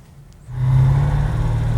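After a quiet moment, a big block GM muscle car engine catches and settles into a deep, throaty exhaust rumble, close and steady.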